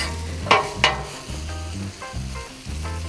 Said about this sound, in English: we're gonna let these potatoes cook on the side